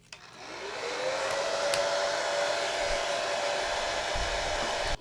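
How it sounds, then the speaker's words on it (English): A handheld hairdryer blows hot air onto a phone's home button to soften its adhesive, switching on with a click and then running as a steady, close, loud whirring hum for several seconds with no talking. "They recommend you heat it with a hairdryer for a little bit to soften the adhesive."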